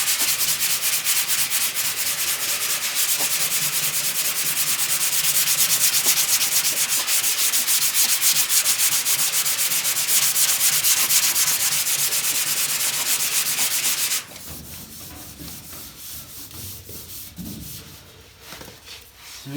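Block sanding primer by hand with sandpaper on a 1968 Camaro body: a loud, continuous rasping scrape that stops near the end, leaving faint handling noise.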